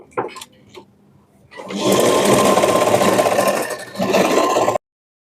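After a few faint handling noises, a sewing machine stitches folded fabric on a double cut work blouse in one loud, close, steady run with a brief dip near the end, then stops abruptly.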